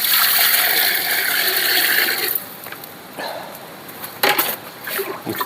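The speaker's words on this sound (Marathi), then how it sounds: "पाणी ओतायला लागतंय" Cold water is poured into a rice pot in a home kitchen, a loud steady rush for about two seconds before it stops, followed by quieter clatter and a brief splash near the end.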